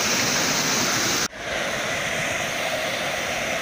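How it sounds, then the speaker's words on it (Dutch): Floodwater from a July 2021 storm pours off a hill beside the Eifel monastery at Mürlenbach in a loud, steady, close roar that briefly dips before it surges back. "Kijk, dat komt hier gewoon vandaan van de berg afgeklaterd."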